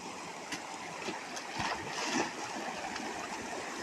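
River stream flowing in the Theni countryside, a soft continuous wash of water with faint gurgles and splashes, fairly quiet and even throughout.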